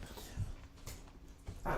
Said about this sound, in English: My freaking dog got in here.